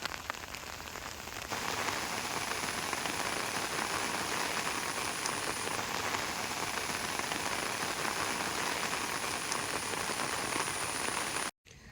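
Steady rain falls in a Kerala village, a dense continuous patter on surfaces that holds at an even loudness for the whole stretch, with a faint high whine running underneath.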